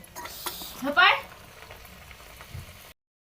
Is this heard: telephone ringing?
no